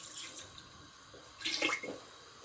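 About two glasses of water are poured into a cooking pot for homemade chicken soup, making a short, faint splashing burst after a quiet stretch of soft background noise.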